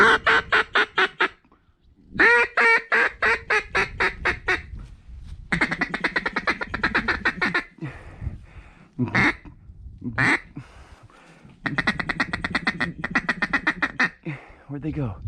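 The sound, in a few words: teal ducks quacking in flooded corn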